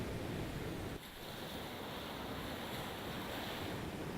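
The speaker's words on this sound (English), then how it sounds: "It's early morning, low tide here on Lakshmanpur Beach number 2." Waves wash over a coral beach at low tide on Neil Island in the early morning, a broad steady surf roar with wind noise across the microphone and no voices.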